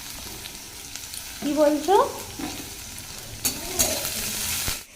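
Green chilli, garlic and onion fry in a pan with a close, steady sizzle and occasional stirring, while a voice speaks briefly over it.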